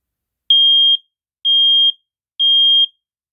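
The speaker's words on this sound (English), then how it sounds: "This smoke alarm works" An SA303 smoke alarm gives three loud, piercing beeps, each about half a second long with short silent gaps between them, heard up close and alone.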